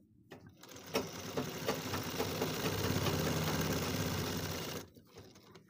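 A sewing machine stitches through stiff buckram in a steady, continuous motor whir with rapid needle clatter, close and fairly loud for about four seconds, starting and stopping abruptly with brief quiet before and after.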